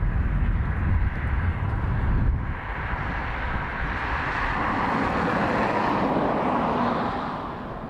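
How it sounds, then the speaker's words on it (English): A Dash 8 turboprop taxiing at Dublin Airport with its number 1 engine still running gives a steady, loud broadband engine roar that holds level throughout and eases off slightly near the end, with no talk. "they normally just switch off the number 1 engine just after they come off Sierra 5, and we can hear the audible change"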